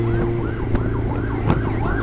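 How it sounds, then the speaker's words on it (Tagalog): An ambulance siren wails in a steady repeating up-and-down sweep throughout, loud and close, over the rumble of road traffic during a cycling road race stage finish in the Philippines. "Sumalubong ko kami ng ambulansya."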